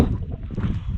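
Strong wind gusting over an open trail in New Caledonia during a rainy ultra race, a loud, steady rumbling roar buffeting the microphone without pause.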